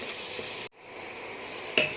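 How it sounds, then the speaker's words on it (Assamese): Chopped tomatoes sizzle and fry in a pan for a banana flower keema, a steady hiss briefly cut off, then a sharp clink of a utensil against the pan near the end. "বিলাহীখিনি ৰঙচুৱাকৈ ভাজি ল'লোঁ"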